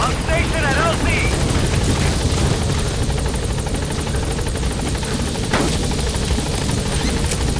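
Pequod, a transport helicopter in Metal Gear Solid V, arriving at a landing zone: a steady, loud rotor drone and turbine whine that hold throughout, with brief game effects and radio voice chatter layered over it.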